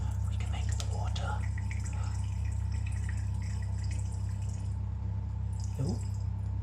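A thin stream of water trickles from a tap during a static electricity experiment with a ruler rubbed on a t-shirt. The faint, steady trickle sits beneath a loud low hum, with a voice briefly present.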